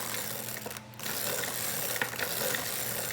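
A hand-cranked circular knitting machine clicks and ratchets steadily as it is turned forward, a close mechanical chatter of gears and pawls that drops out briefly near the start before resuming.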